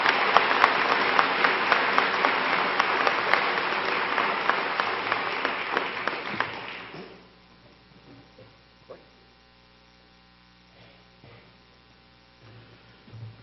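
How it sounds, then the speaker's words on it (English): Commencement audience applauding faculty and staff at a 2013 graduation, a full round of crowd clapping that fades out after about seven seconds into quiet room tone with a low hum. "please join me in a round of applause for appreciation to the faculty and staff"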